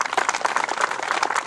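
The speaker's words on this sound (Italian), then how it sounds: "quindi date un applauso che è qui presente" A hall audience claps for Don Umberto at the inauguration of the abbey court in Summaga, a dense, steady patter of many hands held at an even level throughout, with no voices over it.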